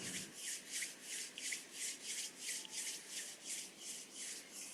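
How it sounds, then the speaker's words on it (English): Hands rubbing together during a guided meditation, a soft dry swishing repeated in an even back-and-forth rhythm, about a dozen strokes, close and quiet with no talking. "Slowly move your fingers and toes and rub your hands."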